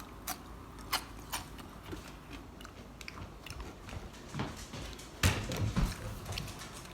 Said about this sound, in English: do you hear that crunching?